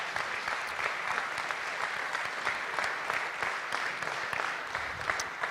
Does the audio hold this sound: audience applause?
yes